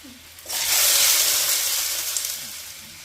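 Red peppers and onions hit hot olive oil in a pan, setting off a sudden loud, bright sizzle that holds steady for a couple of seconds before easing slightly.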